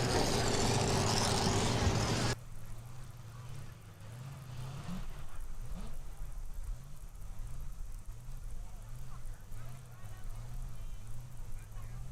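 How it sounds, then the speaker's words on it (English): Super modified two-wheel drive pulling trucks idle and rev while warming up in the pit area at a county fair truck pull, a steady low engine rumble with rising and falling revs. A loud blast of noise comes first. "We got super modified two-wheel drive trucks warming up."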